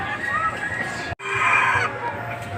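Pure-line bantam chickens in a breeder coop, where a rooster crows loudly and close by. A brief pause follows, then more crowing and clucking.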